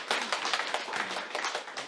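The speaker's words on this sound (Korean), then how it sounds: "우리 박수 한번 하겠습니다" A church congregation claps together after an announcement celebrating a member's university entrance, a dense run of steady hand claps lasting a couple of seconds at moderate level.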